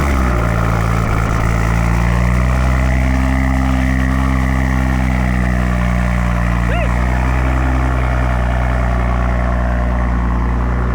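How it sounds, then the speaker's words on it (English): A 700 hp Toyota GR Supra with a manual gearbox idles after a cold start, a steady loud low drone that holds evenly throughout. "Get a little cold start."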